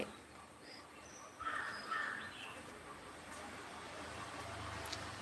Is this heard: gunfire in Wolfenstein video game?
no